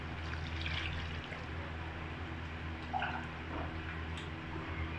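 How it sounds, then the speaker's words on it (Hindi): Water poured from a glass into a pot of rice, made up of six glasses for three of rice, runs as a soft continuous stream with a few gentle splashes, quiet and close. "हम इसमें पानी ऐड कर देते हैं।"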